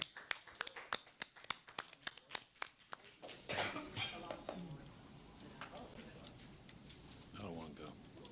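Sparse clapping from a small meeting audience, a dozen or so distinct claps in the first few seconds before fading into room chatter and speech.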